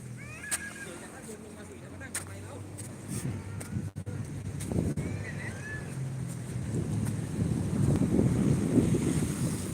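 Wind gusts across the microphone as sea waves wash ashore on a beach at sunset, a continuous rushing roar that swells louder toward the end, with faint voices in the background.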